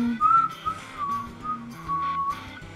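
Someone whistles a wavering, breathy tune up close, the pitch sliding between a few notes in short phrases.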